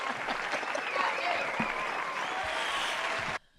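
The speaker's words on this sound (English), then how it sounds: "The applause. cheering sound." Applause and cheering swell as a dense, loud wash of clapping from a crowd, holding steady for about three seconds before cutting off abruptly.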